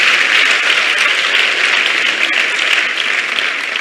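Loud, dense audience applause at a Rwandan gathering, steady and continuous throughout with no break.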